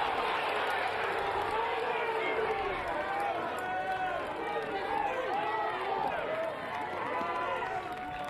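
A crowd at an NC State versus James Madison college baseball game murmurs and stirs in displeasure at an umpire's call, a broad sustained wash of voices under a commentator's talk.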